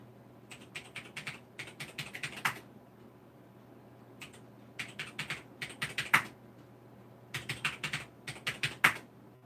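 Computer keyboard typing in quick clattering bursts separated by short pauses, keystrokes close and fairly quiet, over a steady low background hum.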